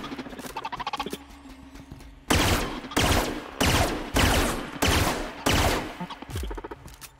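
Rapid bursts of automatic gunfire during a firefight in The Outer Worlds, with five or six loud, evenly spaced volleys following a quieter stretch of game sounds.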